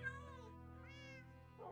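A cat in the Minecraft video game gives a single soft, drawn-out meow, faint and alone.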